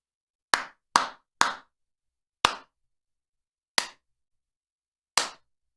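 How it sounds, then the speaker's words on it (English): Six sharp hand claps, each one distinct and alone, coming in an irregular rhythm with short gaps at first and then longer pauses. "But clap my hands, okay."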